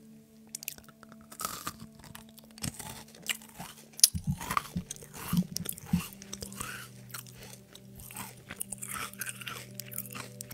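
Crunchy-outside, chewy-middle candy is bitten and chewed close to the mic in a series of crisp crunches and wet chewing sounds, quiet between bites, with a faint steady hum underneath.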